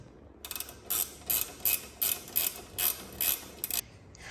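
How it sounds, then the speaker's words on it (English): Ratchet tightening 13 mm nuts during an exhaust install, a steady run of about eight rapid clicking bursts, each a short buzzy ratcheting stroke at close range with brief pauses between. "I guess you got to keep the nuts on the inside so you have access to tighten them up."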